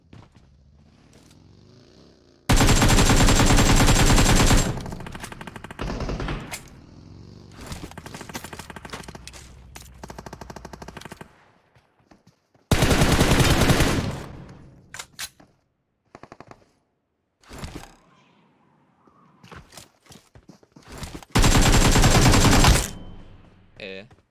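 Loud automatic gunfire in PUBG Mobile comes in three long, intense bursts separated by quieter stretches of scattered shots, movement noise and players talking.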